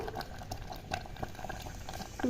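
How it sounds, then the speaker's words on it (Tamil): Sweet sugar pongal rice boils vigorously in a pot on a low flame, a steady close bubbling and popping patter throughout with no voices. "இப்போது கொதி வந்து தள தலைன்னு கொதிக்குது"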